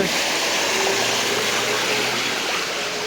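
Bare feet wading through rain-flooded street water in Dhaka, heard as a steady, loud rush and slosh of water that carries on without a break.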